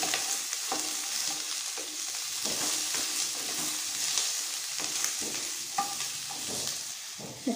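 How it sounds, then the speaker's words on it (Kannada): Red chillies fry in a little oil in a pan for chutney, giving an even, close sizzle with a spatula scraping and stirring at intervals, with no talking. "ಬಾಣಲೆಗೆ ಈ ಮೆಣಸಿನ್ಕಾಯಿ ಹಾಕಿ ಒಂದು ಸ್ವಲ್ಪ ಎಣ್ಣೆ ಹಾಕಿ ಚೆನ್ನಾಗಿ ಫ್ರೈ ಮಾಡ್ಕೊಳ್ಬೇಕು"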